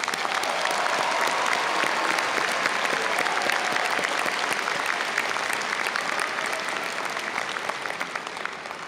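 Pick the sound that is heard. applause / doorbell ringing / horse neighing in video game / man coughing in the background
applause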